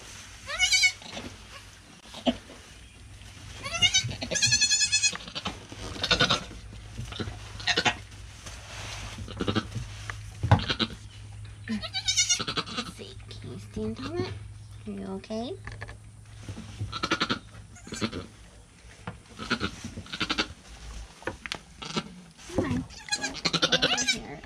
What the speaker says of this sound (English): Little baby goat.